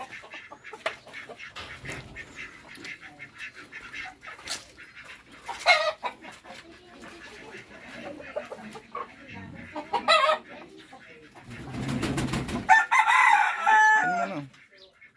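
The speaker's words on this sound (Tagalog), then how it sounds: "yung mga pato natin tsaka manok" Backyard chickens and ducks on a family farm in Bataan, Philippines: rooster crowing, clucking and quacking at varying distances, with scattered voices talking in between.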